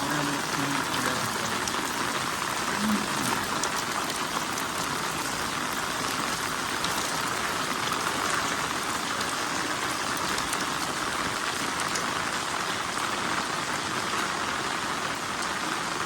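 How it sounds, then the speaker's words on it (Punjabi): Steady rain falls continuously, a dense even hiss of drops on surfaces with no pauses throughout, in Sanghera village by the flooding Sutlej river. "ਰਾਤ ਦੀ ਬਾਰਿਸ਼ ਪਈ ਜਾਂਦੀ ਆ"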